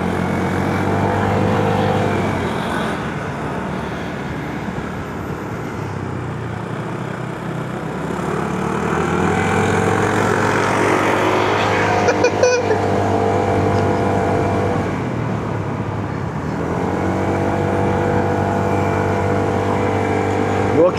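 An Aveta Nova 160 motorcycle engine drones steadily while climbing Gunung Jerai, a continuous close hum with gear-related dips and rises in pitch, running alone without talk.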